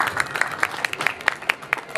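An audience applauds at a book launch during a world book fair, with a steady run of claps and sharper bursts across the whole stretch and a faint murmur of voices underneath.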